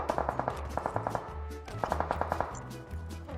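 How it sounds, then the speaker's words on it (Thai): Rapid bursts of automatic gunfire in the mobile battle-royale game PUBG Mobile, two clusters of sharp repeated shots separated by a short pause, loud and close with no talking. "เราขึ้นไปยิงข้างบนดีกว่า"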